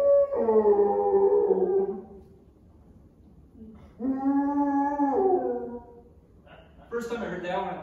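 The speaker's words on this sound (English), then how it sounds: "has drastically different meaning than when a wolf howls like this." Wolf howls come in three short, separate bursts, each a wavering, harmonically rich call lasting a second or two, with quiet gaps between them. The calls are fairly loud and close.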